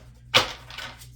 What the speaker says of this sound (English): let me shuffle over here so it's not so loud